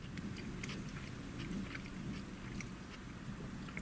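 Chewing on a Hungry Jacks vegan burger, close up: steady moist mastication and soft biting noises continuing throughout, with no talking.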